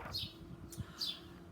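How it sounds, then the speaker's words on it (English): Two short, high bird chirps ring out some distance away over a low background hum, with a quiet pause between them. "Can you hear the birds outside with me?"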